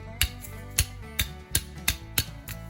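The worn crankshaft bearing of a Suzuki SMX 50 moped, removed on the bench, rings as it spins, giving a rhythmic series of sharp metallic ticks about every half second over a steady hum, close and clear.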